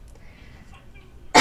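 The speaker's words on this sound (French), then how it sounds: "je suis pas malade, mais j'arrête pas de tousser ces derniers jours" A single sharp cough bursts out loud at the very end after a near-silent stretch.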